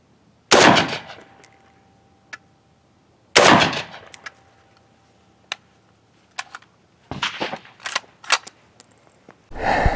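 Sharp reports from a carbine rifle fired from an urban backpack setup: two loud, spaced shots followed by a string of quicker, fainter cracks and clicks, then another loud burst at the end.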